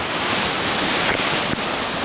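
Black Sea waves wash against a rocky shore near Odesa with a continuous, loud roar, mixed with wind buffeting the microphone.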